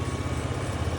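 An SGBT 17000 W three-phase generator engine idles with a steady, continuous low rumble and a dense, unbroken mechanical drone, close and even in level throughout.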